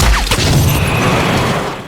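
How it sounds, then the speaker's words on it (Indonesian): A loud booming pistol shot bursts at the start, followed by a crackling spray of shattering window glass and lingering debris noise, close and intense, inside an airplane. "pistol itu mengeluarkan peluru dan memecahkan kaca jendela"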